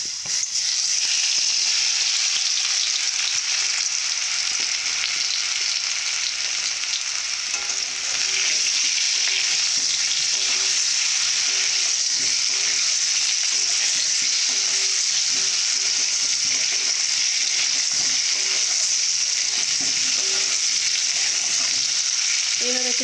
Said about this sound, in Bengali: এইভাবে কিছুক্ষণের জন্য লাল লাল করে ভেজে নেব।